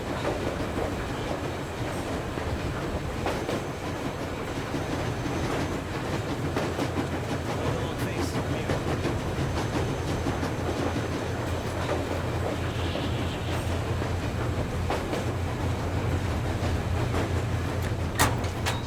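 A coal-burning steam train from Metro Exodus rumbles along steadily, a continuous low chugging roar with rhythmic clickety-clack of the wagons and faint metallic rattles, close and unbroken throughout with no voices.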